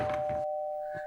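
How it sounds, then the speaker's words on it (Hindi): A doorbell gives a single clear electronic ding, a pure sustained tone that sounds for about a second and fades slowly. A short burst of other noise comes right before it. "हाँ, सुन ली भाई, घंटी सुन ली।"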